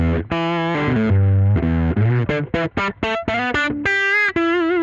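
Overdriven electric guitar through a vintage drive pedal into an amp emulation, playing a continuous, loud, close run of sustained chords and single-note phrases with no talk.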